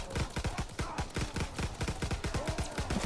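Rapid automatic gunfire in the WWII Nazi Zombies video game, a dense stream of close, loud shots fired with infinite ammo, steady rhythm throughout.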